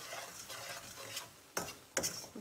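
Suji with cardamom fries in a pan for halwa, a soft continuous sizzle with a couple of sharper scraping stirs near the end, quiet and close.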